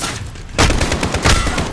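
Machine gun fire in the Call of Duty Modern Warfare campaign, loud close bursts of rapid shots following a quieter moment, with little or no talk.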